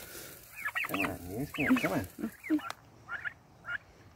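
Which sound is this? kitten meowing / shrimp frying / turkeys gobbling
turkeys gobbling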